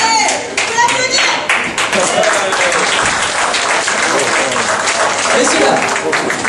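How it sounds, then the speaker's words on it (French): Audience applauding an improviser as he comes on stage at an improv theatre show, steady loud clapping from many hands filling the room throughout. "Faut l'applaudir."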